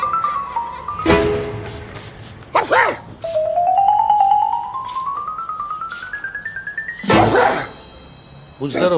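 A man sneezes in a domestic comedy scene, a sharp broadband burst standing out among voices, a rising whistle-like tone and other household noises.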